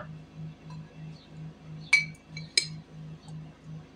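Ice cubes clink sharply against a glass as cold ice water is poured in for a cake recipe, two bright distinct clinks over a faint regular low pulsing hum.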